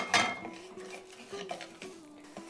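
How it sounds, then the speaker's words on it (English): A utensil stirs ground meat browning in a pan for Mexican picadillo. There is a sharp scrape against the pan, then soft continuous shuffling and light clinks, close and moderate in volume. "You don't want to burn it, so you got to keep stirring it up a little bit."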